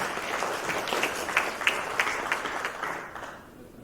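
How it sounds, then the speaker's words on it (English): An audience applauds as Paul Wilson, CEO of the World Platinum Investment Council, is welcomed onto a stage: a dense, steady wash of many hands clapping that thins and fades toward the end. "put your hands together in welcoming Mr. Paul Wilson"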